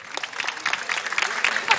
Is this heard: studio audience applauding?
yes